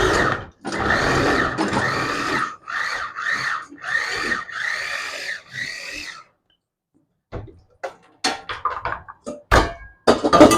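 An electric mixer grinds onions for a soya meat curry in a home kitchen, running in loud pulsed bursts for several seconds, then stopping, followed by scattered clatter and knocks.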